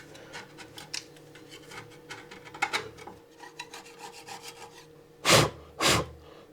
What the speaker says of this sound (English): I'll just scrape off a little bit of this loose stuff, try and get a bit of a chamfer on the edge